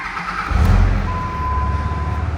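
A Dodge Ram 2500 4x4 with a 5.9L Cummins diesel and five-speed manual cranks and fires up close by, settling into a steady low idle rumble with no talk over it.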